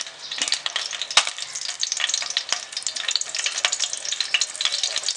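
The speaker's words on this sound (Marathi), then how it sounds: "लसूण चांगला जाळून घ्यायचे।" Garlic cloves with a pinch of asafoetida frying in hot oil for tempering, a loud close crackling sizzle with sharp pops and stirring throughout.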